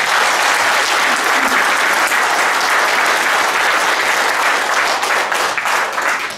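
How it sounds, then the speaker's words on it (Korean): Loud, sustained applause from a large audience at an inauguration ceremony of a Songpa district business association in Seoul, dense and steady throughout before thinning slightly at the end. "큰 박수 한번 보내주세요"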